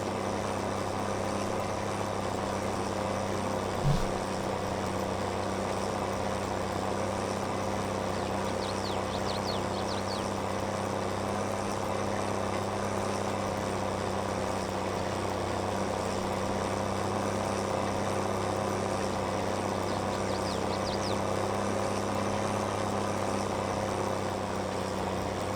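Tractor engine in Farming Simulator 22 on a Somerset farm, a continuous even drone holding steady for the whole stretch with little change in pitch, no talking.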